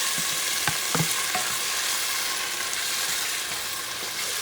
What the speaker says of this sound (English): you're going to add the tomato sauce, including the little chunks of tomato. Mix these babies together.